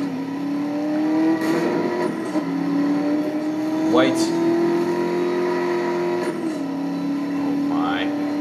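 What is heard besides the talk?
sports car engine turbo noise in video game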